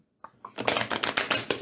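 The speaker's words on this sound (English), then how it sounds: "Go ahead and start shuffling" Playing cards shuffled by hand at a tabletop during a Western Legends board game session, a quick riffle of rapid crisp flutters, close and moderately loud.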